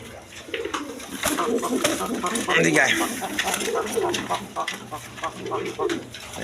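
Several large pigeons coo repeatedly up close in a loft, low rumbling calls overlapping steadily while someone talks over them throughout.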